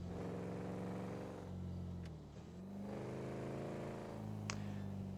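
A car engine hums steadily in GTA V while cruising at modest speed near the Alamo Sea, its pitch sagging and then rising again as the vehicle eases off and picks up, with a couple of faint clicks over it.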